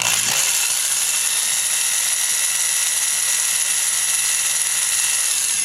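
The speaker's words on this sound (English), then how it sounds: "don't want to drill through to the fuel cell." A power drill runs continuously, deepening a hole in the metal of a Sand Blaster vehicle near its fuel cell, giving a steady, loud, close, high-pitched whir with no pauses.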